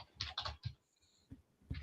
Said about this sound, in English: Sometimes I'm typing too fast.